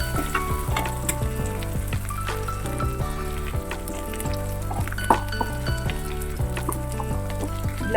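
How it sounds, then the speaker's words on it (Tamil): Elephant foot yam pieces frying in oil in a pan for masiyal, a steady close sizzle running continuously under faint background music, with small clinks of a utensil. "எதுக்காக நான் இதில் ஆயிலில் ஃப்ரை பண்ணுறேன்னா"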